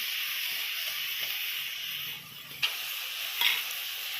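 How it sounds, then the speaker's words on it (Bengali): Chopped tomato dropped into powdered spices frying in a pan for spiced red amaranth greens, a steady sizzling hiss with a few scraping stirs and knocks, close and alone with no voices. "এরপর দিয়ে দিলাম কোচানো টমেটোটা"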